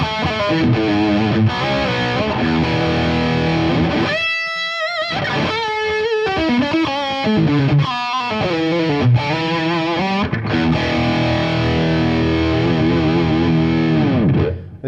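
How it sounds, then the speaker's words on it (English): A Washburn Parallaxe electric guitar plays through its Seymour Duncan distortion bridge pickup with heavy overdriven distortion, thick sustained chords and bends, with a short pause partway through before the playing continues. "If we switch over to overdriven sounds now, starting on the bridge pickup, the Seymour Duncan distortion"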